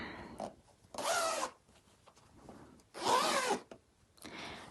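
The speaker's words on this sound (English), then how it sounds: "So if I part that open, you can see there's the zip there." Zip on a fabric cushion cover being pulled open in two short raspy bursts, each about half a second, close and clear against a quiet room.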